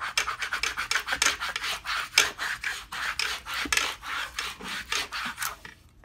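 A wooden surface is smoothed down by hand rubbing in quick, rhythmic rasping strokes, about a dozen close scrapes following one another without pause or voices.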